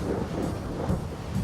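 Thunder sound effect used for a radio show segment, a low continuous rumble that rolls and swells in broad waves throughout, fairly loud and steady with no speech over it.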